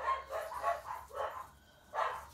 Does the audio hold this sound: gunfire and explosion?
no